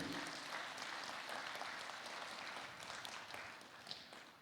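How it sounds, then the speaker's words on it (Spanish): Faint, steady audience applause at a university lecture hall honoring a guest engineer, a dense wash of clapping at a distance with no voices over it. "Y pido un voto de aplausos"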